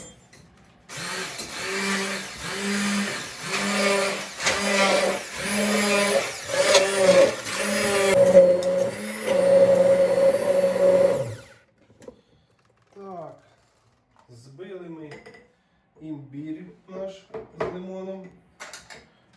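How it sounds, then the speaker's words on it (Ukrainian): A blender whirs loudly in pulsing bursts for about ten seconds blending ginger, lemon and water, then stops; afterward a person talks over light kitchen clatter. "І починаємо блендерити"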